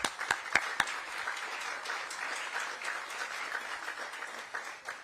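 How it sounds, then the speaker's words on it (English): Applause from a press-conference audience before the 2025 IRONMAN World Championship in Kona, steady broadband clapping lasting about five seconds at moderate level, with a few sharper claps at the start. "Give them a big round of applause."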